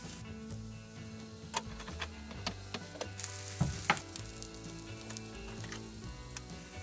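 Seasoned eggplant slices sizzle face down in a frying pan over medium-low heat, a steady crackle dotted with small pops and utensil clicks, heard up close with no talking.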